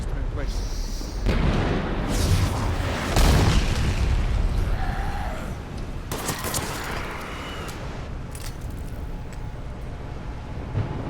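Heavy gunfire and booming explosions in the video game Mass Effect 3, bursts of shots and blasts, loud and close, with a voice talking over the combat.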